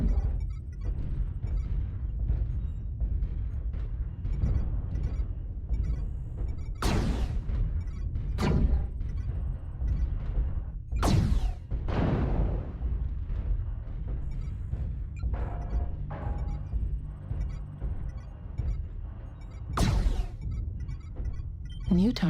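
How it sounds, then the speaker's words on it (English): Artillery strike explosions in the mech combat game MechWarrior Online, with several sharp, heavy booms spread over a constant low rumble of machinery and a synthetic voice speaking at times. "Artillery strike activated."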